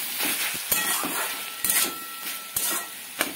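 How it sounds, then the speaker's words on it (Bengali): Spinach with mustard paste stirred in a hot pan with a spatula: a steady sizzling hiss broken by several sharp scrapes and knocks of the spatula against the pan. "এবারে এটাকে আমি নাড়তে থাকবো"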